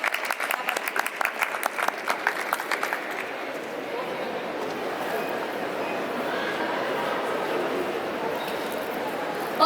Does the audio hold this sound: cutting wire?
no